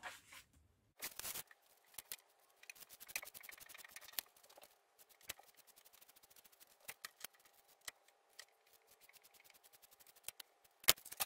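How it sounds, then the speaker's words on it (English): Sewing scissors snip through fabric for circle skirt pieces at a cutting table, a string of short, quiet, sharp clicks spread out with pauses in a quiet room, after a louder burst of handling near the start. "At the cutting table, I'm going to cut out two circle skirt pieces on the fold"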